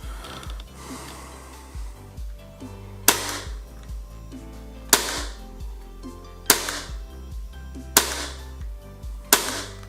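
Dry firing of a Tokyo Marui Glock 17 Gen 4 gas blowback airsoft pistol with no BBs loaded: five sharp, close metallic snaps spaced a second or two apart, with softer clicks and handling noises in between.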